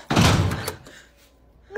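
A door closes with a single heavy thunk and slam close by, its dull impact ringing briefly before fading, with a faint voice starting at the end.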